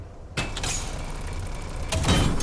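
A door is opened in the driving survival game Pacific Drive while exploring a settlement: a sudden loud clunk and creak starts, runs as a sustained rumbling slide, then a second louder thump near the end.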